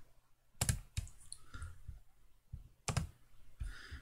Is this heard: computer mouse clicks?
yes